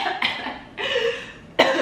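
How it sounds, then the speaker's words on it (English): Three harsh coughs come in quick succession, close and fairly loud, each sharp burst fading into a breathy rasp. "I'm having a cough."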